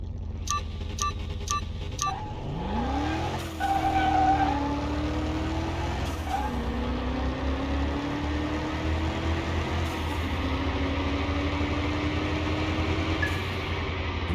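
A Mercedes engine in the Car Mechanic Simulator 2021 racing game, revving up and holding a steady droning pitch through gear changes, preceded by a few short electronic beeps, with no talk.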